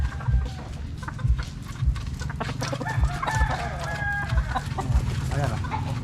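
Chickens cluck busily and a rooster crows at a Filipino chicken farm, with the birds close and loud while people talk in the background.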